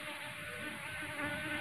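Steady close buzzing of a honeybee colony in a cultivation hive box, a continuous droning hum with slight wavering and no speech.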